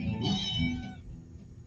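A single close, clear cat meow rises and falls over about a second, then fades into quiet room tone.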